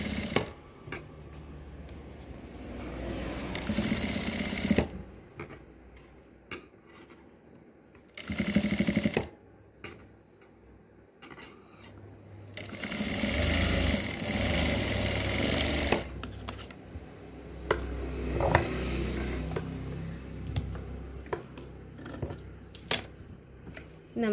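A household sewing machine stitches fabric in several loud, steady whirring bursts of a few seconds each, separated by quieter pauses with light handling noises and no talk.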